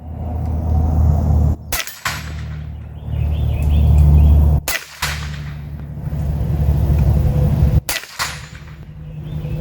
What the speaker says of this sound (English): Shooting every single target out there.